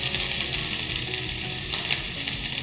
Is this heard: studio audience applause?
no